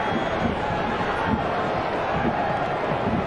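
Stadium crowd at a Colorado Rapids versus Inter Miami soccer match, a steady, dense roar of many voices with no distinct peaks, continuous and moderately loud throughout.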